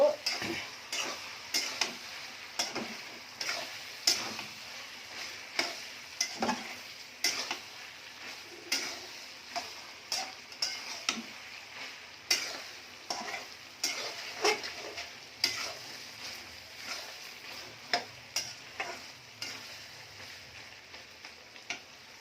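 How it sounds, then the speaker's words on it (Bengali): Potatoes sizzle and fry in a pan with goat tripe while a spoon stirs and taps against the metal in a regular, clicking rhythm, close by and without speech. "এই যে আলুটা কষা নিচ্ছি"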